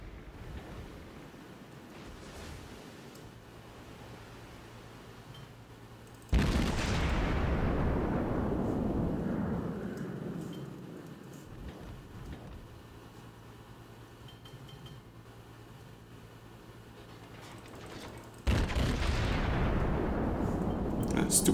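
Naval gunfire from an enemy destroyer strikes a cruiser in World of Warships, T6 Aoba cruiser battle: two loud sudden booms with long rumbling decays over steady ocean and wind ambience.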